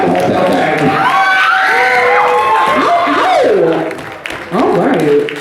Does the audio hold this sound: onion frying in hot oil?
no